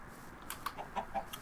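Chickens cluck in Minecraft, with several short, quiet clucks spaced over a moment against faint background hum.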